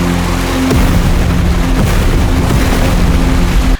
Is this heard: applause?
no